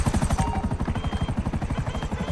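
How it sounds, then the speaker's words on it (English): An attack helicopter in GTA Online, its rotor beating in a fast, steady, close thudding rhythm for the whole stretch. "This is an attack helicopter?"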